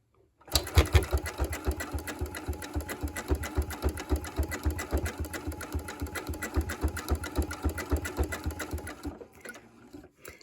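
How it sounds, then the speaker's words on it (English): A sewing machine stitches a wavy decorative top stitch on a quilt binding. Its fast, even needle-thumping runs close and steady for about eight seconds, starting and stopping abruptly. "So here we go. Let's start sewing."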